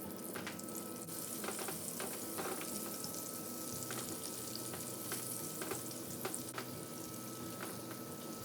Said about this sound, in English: 1 shrimp, dip it in the egg batter, then wrap flour all around it, then put it in the pan and fry